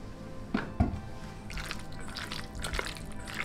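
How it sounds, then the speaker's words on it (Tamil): Oil poured into a chicken marinade with lemon juice and spices, giving soft, close liquid drips and wet squishing that are faint and scattered over a few seconds. "கொஞ்சம் ஆயில் ஊற்றிக்கிறேன்"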